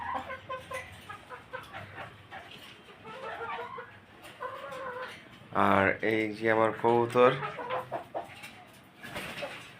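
Pakistani breed farm chickens near laying age cluck and squawk nearby in a rapid run of calls, with someone speaking briefly.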